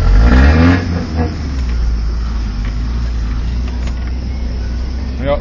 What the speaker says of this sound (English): sounds like a Dodge squeal back there